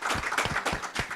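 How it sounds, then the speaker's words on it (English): A short, lively burst of audience applause for panelists at a disability rights event, with dense overlapping claps heard close and fairly loud. "have just a round of applause for everyone up here."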